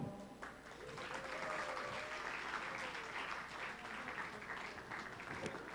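An audience applauds at an esports opening ceremony in Bhutan, a faint, distant, steady wash of clapping lasting several seconds with some murmuring underneath.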